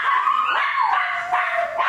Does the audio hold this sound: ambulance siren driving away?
no